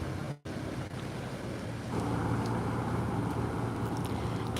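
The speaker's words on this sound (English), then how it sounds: "Wonderful noise from the cruisers as they go past." River cruisers motor past on the Norfolk Broads at Ludham, a soft low engine hum and water wash under light wind noise. The sound swells slightly as a boat draws nearer, with a brief dropout near the start.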